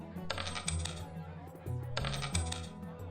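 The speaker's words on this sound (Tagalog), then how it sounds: "Nang marinig ng mga tao ang pagkalansing ng barya sa lalagyan ng kaloob" Coins clink and rattle into a wooden offering box in two separate bursts of metallic jingling, each settling into a brief rattle, close and fairly loud with no voices.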